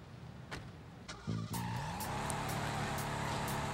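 Tires screech in a skid and an engine revs and drones steadily in Driver: Parallel Lines, with a battered car in an alleyway. A few sharp knocks come before the loud squeal settles into a sustained engine hum.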